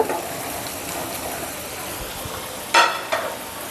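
Onions sizzle steadily in hot oil for a tempered rice dish, a continuous close frying hiss with a couple of short clinks of a utensil near the end.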